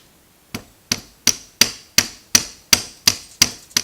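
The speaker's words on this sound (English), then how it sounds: "I'm going to take the rubber end of my hammer." Rubber end of a hammer striking a rifle barrel, an ER Shaw 10/22 barrel stuck tight in its receiver, in ten sharp, evenly spaced knocks with a dull thud and faint ring, close and alone.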